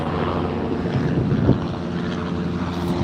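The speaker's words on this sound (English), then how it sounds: "both of these helicopters, they'll do a left-hand turn right now" Helicopters flying over an airfield at Cedar City with doors off, heard as a steady broad rumble and wind-buffeted roar at moderate distance, continuous and fairly loud.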